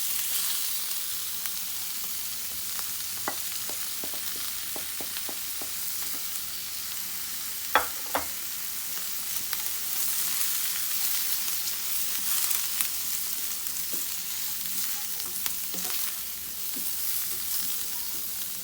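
Masala spices and radish frying in a pan over a low flame, a soft steady sizzle with occasional light stirring clicks, close and without talk.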